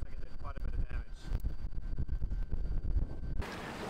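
Strong gusty wind buffeting a sailboat, loud rumbling microphone buffeting with a rushing roar that swells near the end.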